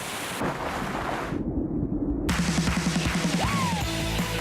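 Huge ocean waves in a water park advert: a loud, broadband surging roar of crashing surf that briefly dulls, then returns beneath rhythmic musical tones and a rising whistle-like sweep.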